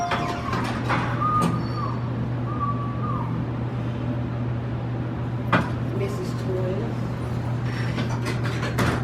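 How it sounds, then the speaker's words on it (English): Elevator in an automotive museum rising between floors, giving a steady low mechanical hum with occasional clicks and faint whirring tones throughout. "I'm in the elevator going up to the 3rd floor"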